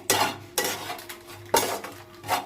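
Masala being stirred in a pan, with a few distinct metal spoon scrapes and clanks against the cookware at irregular intervals over a faint background.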